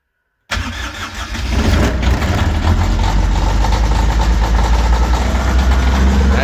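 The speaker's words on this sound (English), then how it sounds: "Let's start this thing. Cold start." A diesel engine with glow plugs and a block heater cranks and fires on a cold start, then settles into a steady, loud, close idle that continues with no talk.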